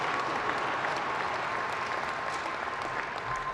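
Sustained applause from a large audience at a 2014 business school commencement ceremony, a steady dense wash of clapping that holds evenly throughout with no voices.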